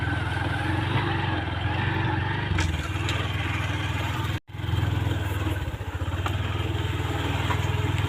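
A motorcycle rides along paths through rice fields, its mid-pitched engine droning steadily and close throughout, with a brief dropout near the middle before the running resumes.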